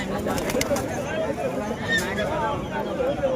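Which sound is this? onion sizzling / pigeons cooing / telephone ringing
pigeons cooing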